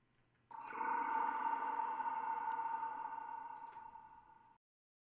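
A ping-pong delay effect in FL Studio on a techno track: a sustained synth tone swells in and holds for about four seconds before cutting off abruptly, with faint echoing clicks at its start and end.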